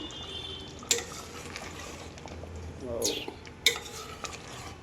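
A spoon stirs gongura chicken in a pot, giving faint, soft scraping and wet sloshing, with a few sharper clinks of metal against the pot rim standing out over low background noise.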